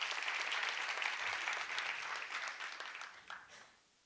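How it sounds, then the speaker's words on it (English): Audience applause at a women's investment summit in the Nordic region, a soft, steady wash of clapping from a sizable crowd that fades away to near silence at the end. "A big applause for Vera."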